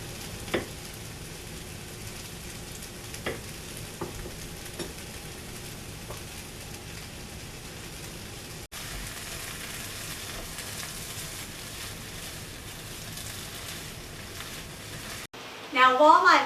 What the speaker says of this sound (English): while my vegetables are sauteing and continuing to soften